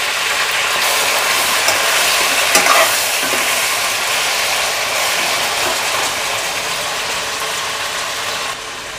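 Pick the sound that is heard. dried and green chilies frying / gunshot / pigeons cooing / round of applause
dried and green chilies frying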